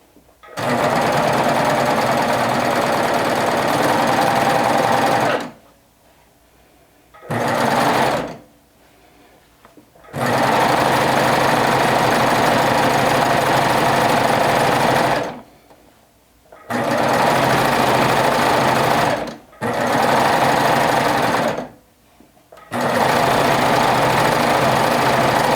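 A sewing machine top-stitches cotton lycra in steady, loud, close bursts of rapid mechanical whirring, stopping briefly between several runs.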